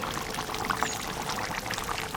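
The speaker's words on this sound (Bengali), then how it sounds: "এবার কাঁচা সর্ষের তেল দিয়ে নামিয়ে দেবো।" Raw mustard oil pours into a simmering hilsa fish and aubergine curry, a steady close liquid trickle and burble over a bubbling background, with no talking.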